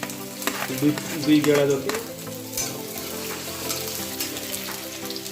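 Garlic going into hot oil makes a close, steady sizzle with a few stirring scrapes while a person speaks briefly over it.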